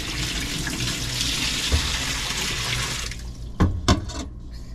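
An appliance filling with water on manual fill, a steady rushing flow like a running tap for about three seconds before it cuts off, followed by a couple of sharp knocks and clunks; no talking.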